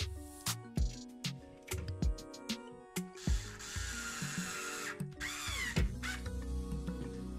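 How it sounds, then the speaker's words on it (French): Screws being driven to fix a rack into a custom sliding under-stairs shoe cabinet, giving close, repeated ratcheting clicks and short mechanical bursts with brief pauses between them. "Ensuite, je viens visser la crémaillère."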